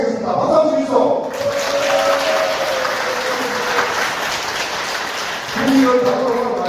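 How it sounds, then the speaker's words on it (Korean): An audience at a Democratic Party members' day event in Gumi claps together in a sustained, dense burst of applause, with a speaker's voice heard over it at the start and end. "박수 한번 주시죠."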